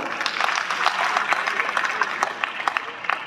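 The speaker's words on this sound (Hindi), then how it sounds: "आप तालियों का हकदार हैं" Audience at an All India fire service sports meet prize distribution and closing ceremony breaks into steady applause, a dense wash of many hands clapping at moderate volume, with no voices over it.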